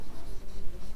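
Handwriting of an explanation during a chemistry lesson, a steady close scratching of pen or chalk strokes running continuously for about a second with no talk over it.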